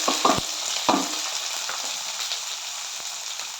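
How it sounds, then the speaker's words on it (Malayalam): Cooked beef with onion, tomato and curry leaves sautés in a pan, a steady bright sizzle broken by a few sharp stirring scrapes near the start, close by without talk. "ഇതൊന്ന് നന്നായി വഴന്ന് വരട്ടെ"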